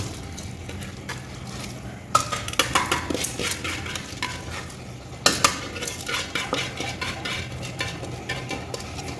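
Rice goes into a pot of boiling water with a burst of pouring and rustling, then clinks and scraping stirs against the pot over a constant bubbling hiss.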